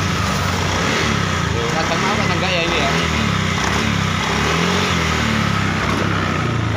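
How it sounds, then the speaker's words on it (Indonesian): A Honda Beat ECO scooter motorcycle with a fault sputters and stutters as it is revved, its engine faltering and threatening to die, close by under ongoing conversation. "Motornya pokoknya mbrebet, digas mati."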